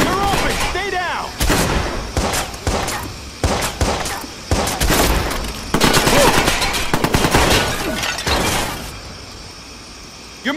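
Gunfire in Watch Dogs on PS4, rapid bursts of shots and automatic fire close by, loud and repeated across a firefight with brief gaps, with voices faintly under the shooting.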